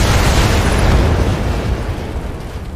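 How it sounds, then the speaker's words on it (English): An enemy vehicle exploding in the 1993 Interplay game Star Trek: Judgment Rites, a loud, dense, crackling roar that fades slowly over a few seconds. "Enemy vehicle destroyed."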